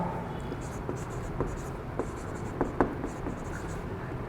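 Chalk or a marker taps and scratches on a board in a chemistry class, short faint strokes at irregular intervals over a steady room background with speech present.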